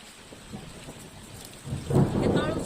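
Thunder rolls during a heavy rainstorm, starting as faint rain patter and swelling into a loud, deep rumble in the last second or so.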